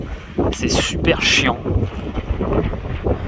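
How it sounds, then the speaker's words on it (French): Strong wind buffeting an outdoor microphone on the coast at Sidi Kaouki, a steady low rumble with gusts that runs through the whole stretch while someone speaks over it. "Bon, là il y a vraiment beaucoup de vent."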